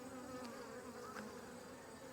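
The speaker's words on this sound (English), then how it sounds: "right down here is a bee, right there, emerging" A honeybee buzzes faintly but steadily as it chews through the wax cap and emerges from its brood cell in a hive frame, a thin continuous insect drone with no voices.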